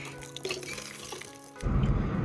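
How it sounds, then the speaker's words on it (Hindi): Water from a hand pump gushes out heavily in a loud, continuous splashing rush that starts abruptly partway through, after quieter clattering and background sounds. "हैंडपम्प से खतरनाक तरीके से पानी आता है यार, इतना ज़्यादा आता है"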